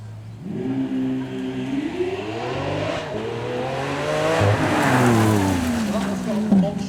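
A Lamborghini V12 at a supercar weekend show revs repeatedly, its pitch climbing and falling in swells that build louder toward the end, while someone speaks over the engine.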